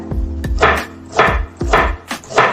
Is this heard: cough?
no